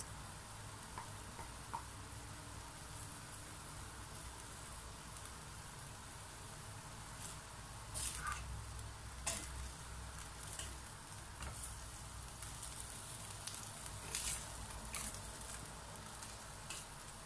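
Igado ingredients with bay leaves are stirred in a pan over a continuous low sizzle, with several sharp scraping and clinking strokes of a utensil against the pan, close and moderately quiet, and no talking.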